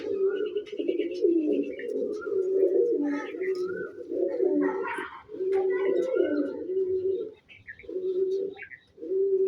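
Pigeons in a loft coo steadily and close, low rolling coos repeating in bursts with short pauses, along with some faint higher chirps.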